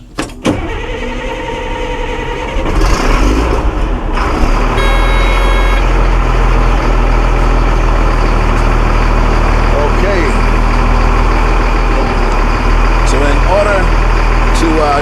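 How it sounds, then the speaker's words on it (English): Heavy forestry equipment engines start up and settle into a loud, steady diesel idle, with a continuous low rumble and some higher mechanical tones and beeps over it. "Gentlemen, start your engines."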